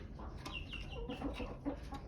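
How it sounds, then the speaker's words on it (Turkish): Chickens, a hen and a rooster, cluck softly and repeatedly at close range in a coop, a few low murmuring calls over a faint background hum. "Bir tavuk bir horoz."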